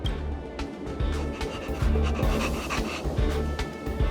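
A small dog in the video game Honkai Star Rail pants rapidly and steadily, close and clear, with quick rhythmic breaths over a soft game background and no talking.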